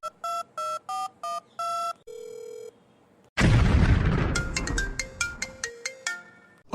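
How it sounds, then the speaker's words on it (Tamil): Mobile phone keypad tones as a number is dialed: five quick, evenly spaced beeps, then a single longer steady tone, followed by a loud noise burst and a run of short electronic chimes. "சரி சரி சித்துவுக்கு கால் பண்ணலாம் சித்து நம்பர் நைன் எயிட்"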